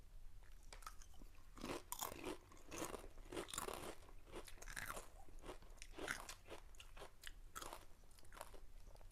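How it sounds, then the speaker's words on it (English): Boulder Canyon jalapeno kettle-cooked potato chips being bitten and chewed give a series of sharp, close, loud crunches in an irregular rhythm, with no talk. "Good crunch as well."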